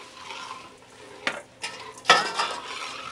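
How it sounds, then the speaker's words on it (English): A sugar and egg mixture is stirred in a pot, with quiet scraping swirls and a few sharp clinks of the utensil against the metal, growing more distinct toward the end. "Continue stirring until it thickens."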